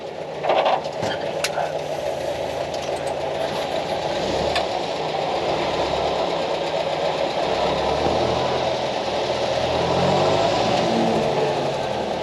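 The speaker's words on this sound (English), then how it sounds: "it sounds a lot smoother with a cowling on." A restored R2087 truck engine with its cowling fitted runs steadily nearby, a continuous even drone and hum with a slight rev at the start, loud and unbroken.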